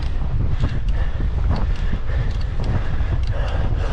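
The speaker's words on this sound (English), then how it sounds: "quite a headwind now" Strong headwind on Holme Moss hill roars as heavy, constant low buffeting against the microphone, with a dense rushing noise filling the whole stretch.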